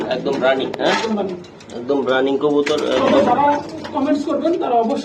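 A pigeon coos in soft, repeated throaty phrases close by, the calls running beneath and between people talking.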